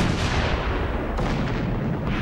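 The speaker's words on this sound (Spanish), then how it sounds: "El Emden se acerca aún más y luego dispara 125 cañonazos" Naval cannon fire from the German cruiser Emden shelling Madras harbour in 1914, a loud continuous rumbling barrage of booms and blasts with no talk.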